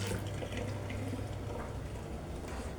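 Water runs steadily into a container with a broad splashing hiss, continuous and fairly close.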